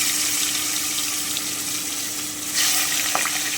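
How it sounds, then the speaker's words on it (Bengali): Koi fish drop into hot oil and fry with a steady, loud hiss and sizzle, swelling briefly near the end. "এবারে আমি মাছগুলোকে ফেলে দিচ্ছি"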